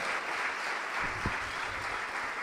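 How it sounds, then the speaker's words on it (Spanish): Sustained applause from a church congregation, steady and fairly loud, filling the room with dense clapping, with a brief low voice or shout rising briefly midway. "Fuerte el aplauso al Señor, hermano."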